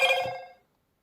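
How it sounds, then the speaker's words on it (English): Motorola phone ringtone, a short bright chiming tone that rings out and decays within about half a second, fairly faint and alone without talking. "Ooh, nice Moto ringtone."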